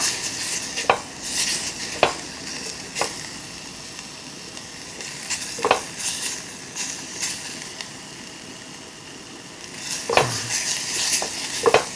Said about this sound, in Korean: 항상 고기 종류는 이렇게 먼저 볶아주시는 거예요